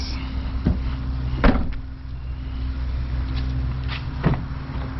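Closing the tailgate of a 2019 Mitsubishi Outlander, heard close up: a few short clunks and one firmer thump stand out over a quiet, steady background hum, with no voices.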